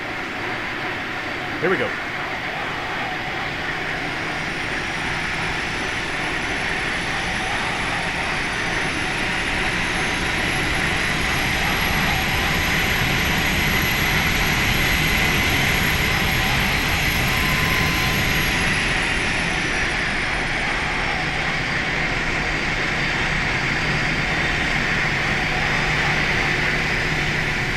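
Jet engines of an Airbus A320 taxiing in the Flight Factor simulator game, a loud steady roar with a high whine that climbs and holds, while a voice speaks briefly near the start.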